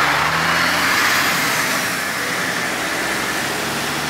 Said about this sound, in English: Lots of cars down here on the 76 strip this morning.